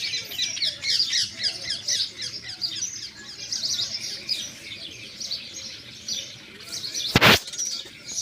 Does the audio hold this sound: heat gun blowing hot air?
no